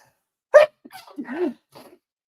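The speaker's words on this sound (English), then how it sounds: "that might be the first time I sneezed on camera without muting" A single sharp sneeze from a person, close and fairly loud, followed by a brief breathy exhale and faint murmured voice afterward.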